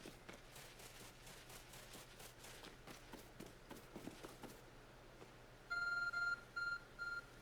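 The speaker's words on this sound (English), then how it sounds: "A glowing beeping object over there. It's my phone." A phone in the Pokémon Legends: Arceus video game gives a series of short, clear electronic beeps in a repeating pattern, arriving after soft game ambience and footsteps, fairly quiet overall.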